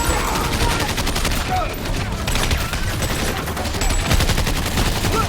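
Loud, sustained gunfire from a Steven Seagal action movie scene, with many shooters firing in the open, so rapid shots blur into an unbroken roar that continues for the whole stretch with little pause.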